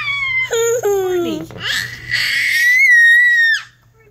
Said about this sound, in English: What's with all that screaming?